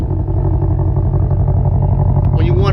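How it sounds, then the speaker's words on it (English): A 2020 Ford Mustang Shelby GT500 idles with a deep, steady exhaust rumble close by while someone talks over it, and the tone rises slightly near the end. "Listen to that exhaust."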